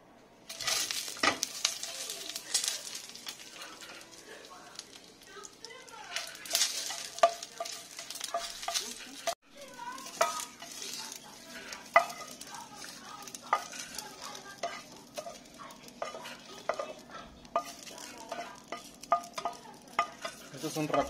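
Dried chili frying in a little oil in a pan: a steady crackling sizzle with scraping stirring strokes and irregular pops, close by and moderately loud.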